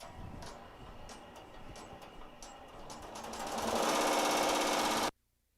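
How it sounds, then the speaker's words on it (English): An embroidery machine stitching out a design on a bucket hat, a rapid rhythmic mechanical chatter that grows louder and denser near the end before stopping abruptly. "I will just go ahead and press start, and we'll let this guy sew out."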